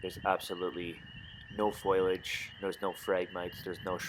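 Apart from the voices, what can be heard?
No everyday noise stands out behind the speech.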